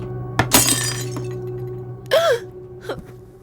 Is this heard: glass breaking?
yes